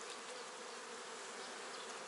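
Honeybees buzz at an opened beehive where a queen has just been released, forming a steady, fairly faint, dense hum that fills the whole moment without pause.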